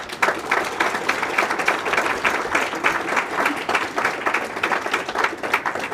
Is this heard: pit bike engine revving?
no